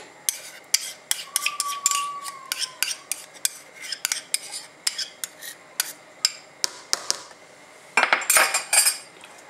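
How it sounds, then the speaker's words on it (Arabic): A utensil stirs flour and tomato paste into water in a bowl, giving a series of close, sharp scraping clinks in an irregular rhythm, with a denser burst of clatter near the end and no speech. "وغندمجوا العناصر مزيان كيتخلط لينا مزيان هذاك الدقيق مع الماء"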